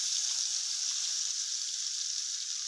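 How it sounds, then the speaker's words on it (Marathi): Ground masala paste sizzles in oil in a kadhai while cooking Vidarbha-style aloo bonda rassa, a steady, even hiss that stays close and continuous with no talk. "या कढईमध्येच आपल्याला आता हा जो मसाला वाटून घेतलेला आता मिक्सरमधून हाच टाकून घ्यायचा आहे."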